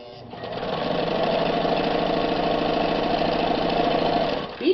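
A Japanese-made Riccar sewing machine running steadily, its needle mechanism producing a fast, even mechanical chatter that ramps up and holds at a moderate level, close by and without talk.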